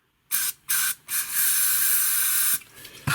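Aerosol brake and parts cleaner or carb cleaner sprays from a can during throttle body cleaning on a Honda Vision 110 scooter. A few short bursts of loud, close hissing lead into one long sustained spray, with no talking.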